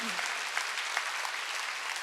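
Congregation applauding at a Korean church summer mountain revival service: a dense, steady wash of many hands clapping in a large hall, fairly distant, with a brief voice at the start.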